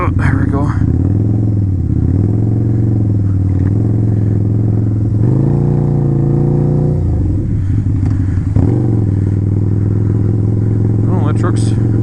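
Harley-Davidson motorcycle engine rumbling steadily while riding through a snowy blizzard on a slushy road, a low continuous drone with brief swells of throttle, close and loud throughout.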